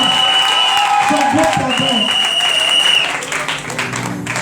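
Congregation applauding and cheering at a night prayer service in a church temple in Cocody, dense loud clapping with raised voices throughout, tapering slightly at the end.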